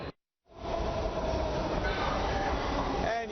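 A Washington Metro Red Line train rumbles loud and steady through the station at Judiciary Square during rush hour, after a brief cut to silence, with a faint squeal near the end.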